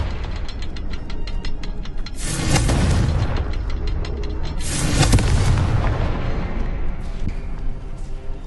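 In the Hogwarts Legacy game, a Confringo fire spell bursts twice in loud booming blasts with crackling rumble, over a steady background of game ambience.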